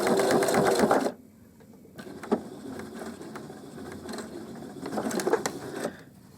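A sewing machine runs a straight stitch in short bursts, its rapid needle chatter loud at first, pausing, then resuming in quieter stretches and rising again near the end, close by with no talking.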